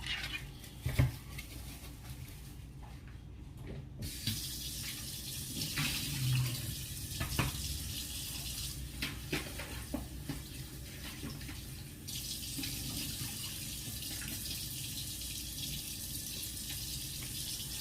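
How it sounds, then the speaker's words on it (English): Tap water runs steadily into a kitchen sink while a brined chicken is rinsed, a continuous hiss of flowing water with faint splashes and no talking. "I'm gonna rinse it off and I'll be right back."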